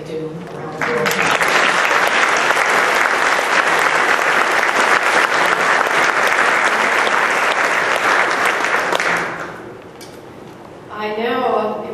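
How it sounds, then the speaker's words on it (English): Loud, sustained applause from an awards ceremony audience at the AFSA awards, swelling quickly and holding steady for several seconds before tapering off, with a voice beginning to speak as it fades. "I'm just going to ask for another round of applause to all the CLOEs"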